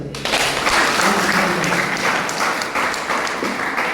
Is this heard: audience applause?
yes